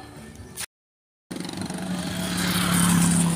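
Motorcycle engines pass along a rural road between sitios in a barangay, rising to a loud, sustained near drone after a brief gap of silence.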